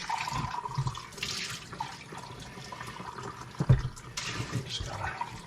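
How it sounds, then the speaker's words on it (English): Running water splashes and swirls as a dough bowl is rinsed out at a camp, a steady, fairly close trickle with a few louder knocks and sloshes. "Just want to rinse this out before it dries out"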